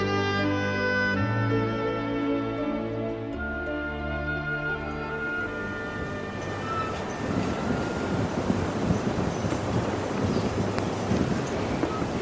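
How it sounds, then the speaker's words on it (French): Wind rising at sea aboard a boat heading for the Chausey islands, a broad rushing roar that swells and grows rough and gusty over the second half, with faint tonal hum early on and no voices. "Hélas, le vent se lève, la mer se gonfle et le temps se refroidit."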